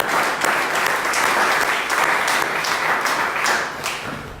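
A church congregation applauding, dense steady clapping from many people close by that holds for several seconds, then eases slightly at the end.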